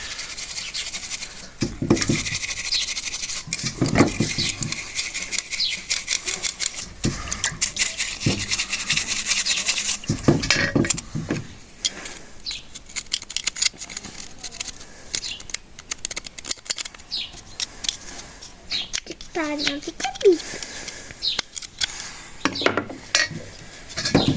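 A brush scrubs a dirty motorcycle carburetor part soaked in gasoline, steady close scratchy strokes in bursts with brief pauses and small clinks of metal.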